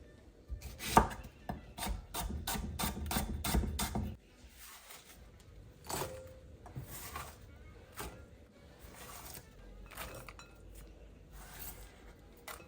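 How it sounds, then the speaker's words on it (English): Rapid knife chopping on a board while preparing pakora ingredients, a fast steady run of close taps that stops, then slower scattered chops and scraping follow. "I'm just going to chop this up, get the mixture ready."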